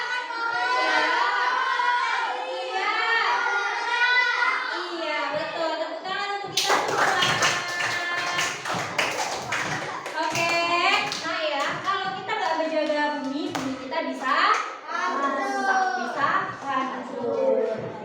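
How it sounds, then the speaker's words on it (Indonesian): Fifth-grade schoolchildren in an elementary classroom clap their hands, sharp rhythmic claps bursting in midway among the lively chatter of kids talking before and after. "Tepuk tangan"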